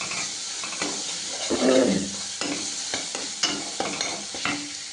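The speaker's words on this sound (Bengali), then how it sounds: "তো চলো এবার একটুখানি মশলাটাকে এরকম নাড়িয়ে দিই।" Spices with Kashmiri red chili powder stirred in a hot pan of oil, a steady sizzle and fry hiss under repeated scraping strokes of a spoon, close up with no talking.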